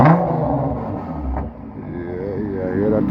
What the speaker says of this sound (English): Hear that turbo whining away.